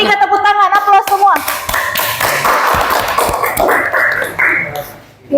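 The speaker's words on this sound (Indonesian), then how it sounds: "beri dulu kelompok 3 tepuk tangan, aplaus semua." A classroom group claps for group 3 in a short, dense burst of applause after some speech, fading out near the end.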